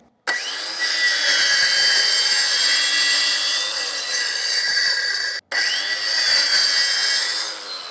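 A new Ryobi power saw cuts through wood in a loud, close, continuous high whine. It stops for a brief moment partway through, then resumes and carries on steadily, with no talking.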